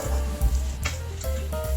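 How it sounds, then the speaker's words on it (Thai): Soy sauce fried rice with pork balls is stir-fried in a wok over medium heat, giving a steady close sizzle with a few scraping strokes of the spatula breaking through. "เพื่อเราจะได้ผัดคั่วกับกระทะไปเรื่อยๆนะครับ"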